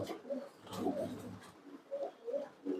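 A pigeon coos softly and close by, a few low burbling phrases in a quiet space.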